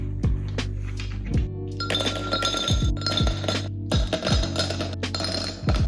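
Ice cubes clink and knock into a glass for an iced espresso drink with milk and cold foam, a rapid series of bright, close, hard strikes and rattles with no talking.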